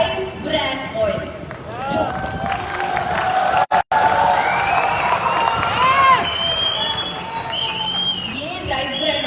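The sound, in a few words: audience clapping and cheering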